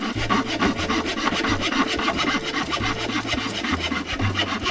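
A cheap Dollar Tree hacksaw cuts into a wooden 1x2 board, making a steady, close rasp of back-and-forth strokes that continues without pause and with no talking.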